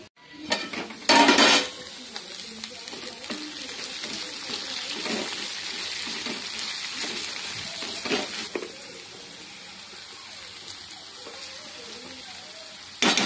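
Okra curry cooking in a pan, a continuous soft sizzle with a few loud clanks of a utensil against the pan, quiet voices briefly in the background.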